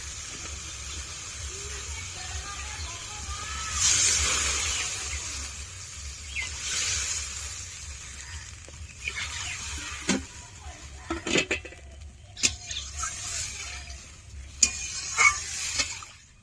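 Mustard-poppy spice paste for a thin hilsa curry sizzles steadily in a pan, with a louder hissing surge as water is poured in, then scattered clinks and scraping stirs of utensils against the pot.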